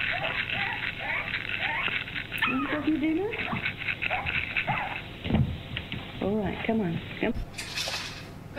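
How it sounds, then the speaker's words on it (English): A little puppy gives repeated high whimpers and yips in short bursts, close by, mixed in with people talking and laughing over it. "there's a little puppy"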